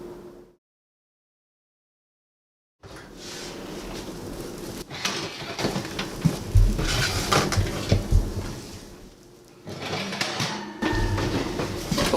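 Pecans being stirred and spread across a metal cookie sheet, butter-roasted for caramel pecans: a gap of silence, then close clattering, scraping and rattling of nuts on the sheet in two bursts.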